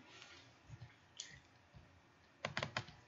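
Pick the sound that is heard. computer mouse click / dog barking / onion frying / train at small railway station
computer mouse click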